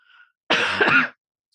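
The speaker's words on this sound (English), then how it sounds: "I have a little bit of a cough." A single harsh cough bursts out after a brief pause, short and close, then silence.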